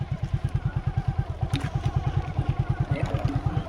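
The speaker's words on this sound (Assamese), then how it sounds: "তো গাইজ আমি এতিয়া বঢ়িয়াকৈ বাইকত যাই আছোঁ" A motorcycle is being ridden along at a steady pace, its engine giving a fast, even chugging pulse that stays close and loud throughout, with a light clatter now and then.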